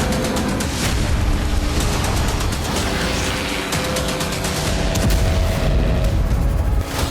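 Dense, loud blasts and crackling detonations from drone attacks on Russian airbases pound continuously, with sharp repeated booms layered over a roaring wall of noise and no voices.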